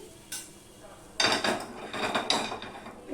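Pieces of a vegetarian gram-flour tiffin set onto a dish, giving a few close clinks and clatters of utensil against plate in a quiet kitchen, with a short knock before them.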